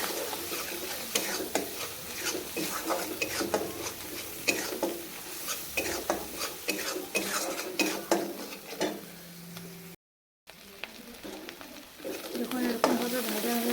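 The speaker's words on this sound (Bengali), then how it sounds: "মশলাটাকে ভালোভাবে ভাজতে হবে" Spice masala frying and being stirred in a pan, with a steady sizzle and repeated scraping strokes of a spatula close by, broken by a brief gap near the end before the stirring resumes.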